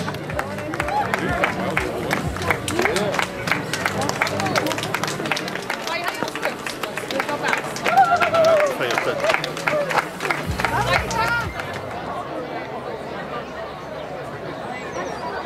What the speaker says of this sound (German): dann noch dicken Applaus